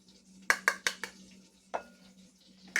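Almond flour is poured into a bowl for keto buttermilk biscuits, with a quick burst of four close scraping and tapping clatters followed by two more isolated knocks over a faint steady hum.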